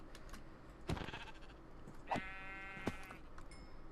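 Sheep bleat in Minecraft, three short nasal cries spaced about a second apart, fairly close and clear over a quiet background, with no talking.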